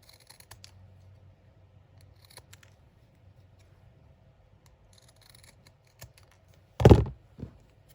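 Scissors make a single loud crisp snip through gift wrap for a junk journal craft, followed by a smaller second cut, in an otherwise quiet room.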